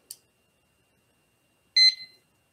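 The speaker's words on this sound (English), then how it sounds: "And then I'm going to take the Pampered Chef timer." A Pampered Chef kitchen timer gives a tiny click, then a short burst of bright electronic beeps as its buttons are pressed, close up in a quiet kitchen.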